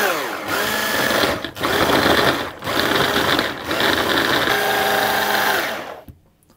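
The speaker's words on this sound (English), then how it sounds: "I'm going to process this, or pulse it repeatedly, until it turns into a fine breadcrumb-like texture" Food processor pulsing pie pastry mixture into fine crumbs: five loud whirring bursts of roughly a second each with brief gaps between, close, ending in silence, no talking.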